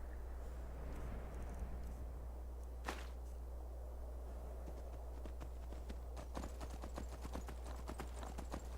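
Horse hooves from riding in the video game Skyrim, a steady rhythmic clip-clop that grows sharper and more regular in the later part, over low ambient game hum.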